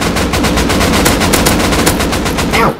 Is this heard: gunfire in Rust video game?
yes